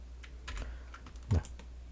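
A few keystrokes on a computer keyboard while working in Maya, with soft scattered taps and one louder key press near the end, close and quiet, with no talking.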